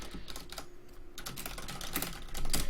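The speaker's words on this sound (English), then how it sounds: "I think I can type in the chat now." Fingers type rapidly on a computer keyboard, entering chat during an online 1v1 game, a close, busy patter of key clicks running throughout with no speech.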